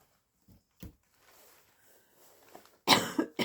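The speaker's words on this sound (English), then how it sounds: "I think I'm getting that cough" A few short coughs, a couple of faint ones early and then a loud, harsh burst of coughing near the end, close by with no talking.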